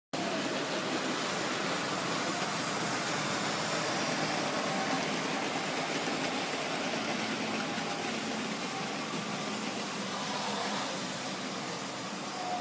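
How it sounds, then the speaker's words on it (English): A Class 29 model diesel locomotive fitted with original Triang wheels, running on modern model railway track in an East Anglian layout: a steady, broad rushing rumble that continues evenly throughout, close and fairly loud, with no talk. "So reasonably smooth finish there from the Class 29"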